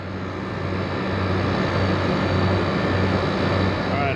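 Refrigeration unit with a freshly replaced condenser coil running while being pumped down, a steady close droning hum and whir of compressor and fan, constant and unbroken throughout with no talk.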